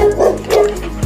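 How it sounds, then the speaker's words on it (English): A dog barks as a sound effect in a toddlers' ABC nursery song, three yappy bow-wow barks in quick succession, loud and close over a steady musical backing. "D is for dog"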